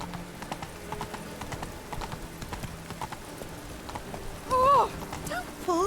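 Rapid hoofbeats of a galloping horse in The Witcher 3, close and rhythmic, followed near the end by a sharp neigh.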